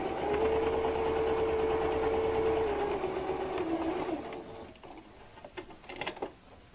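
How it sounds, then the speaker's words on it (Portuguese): A sewing machine stitches fabric for a Dresden quilt block, a steady whirring run of stitches for about four seconds, then slowing and ending in a few scattered clicks and handling noises. "eu vou pra máquina e vou costurar bem nesse limite que eu mostrei pra vocês"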